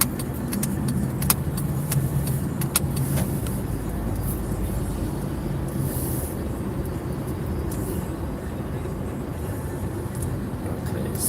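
A car drives along a road, its steady engine and tyre rumble continuous and fairly loud throughout, with a few faint rattles and jingles inside the cabin.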